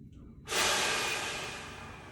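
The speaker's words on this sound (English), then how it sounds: "Blow it out strong. Big inhale." A single long, forceful exhale rushes out after a short quiet moment, loud and close, slowly fading over a couple of seconds during a workout breathing exercise between hand plank sets.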